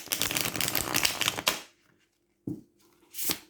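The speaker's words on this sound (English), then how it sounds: "It is got that lovely whisper as the cards go past each other." A tarot deck riffle-shuffled in a quick fluttering burst, followed by two short soft taps of cards settling, close and alone.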